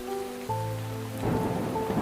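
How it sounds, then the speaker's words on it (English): Heavy rain drumming steadily on a roof during a thunderstorm, with a low rumbling tone underneath and the downpour swelling louder toward the end. "Rain striking the roof,"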